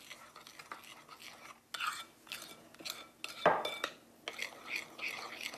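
A utensil stirs flour and salt together in a bowl, giving soft irregular scraping and clinking strokes at close range, with faint whispery brushing between them and no clear talk.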